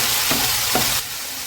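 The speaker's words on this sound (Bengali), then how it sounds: "1 চামচ আদা রসুন বাটা দিয়ে দিলাম, দিয়ে এবার ভালো করে ভেজে নিচ্ছি" Onion and ginger-garlic paste frying in fish oil, a loud, steady close sizzle broken by two quick stirring scrapes, then settling into a slightly quieter hiss.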